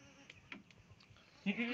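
Goats on a livestock farm bleat faintly a few times, short soft calls followed by one louder, closer bleat at the end.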